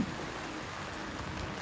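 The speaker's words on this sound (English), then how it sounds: "It's raining like anything. It's raining like hell." Heavy rain pours outdoors in Bangalore beside a parked BMW, a dense, steady hiss of falling water with no pauses, fairly close and loud.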